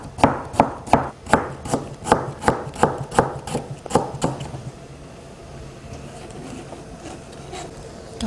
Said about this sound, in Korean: 그 다음 배를 또 무와 똑같은 모양으로 얇게 썰어 놓습니다.